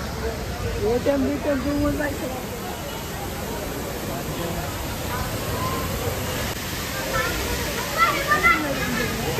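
Water gushing steadily from a burst underground pipe in a village street, a continuous broadband rush with splashing, while voices talk nearby.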